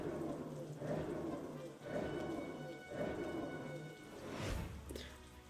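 Rain pours steadily in the strategy video game Banner of the Maid, with low rumbles of thunder swelling and fading in waves and a sharper crack near the end, heard alone with no talk.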